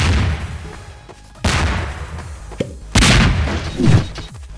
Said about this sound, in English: That's a lot of bombs!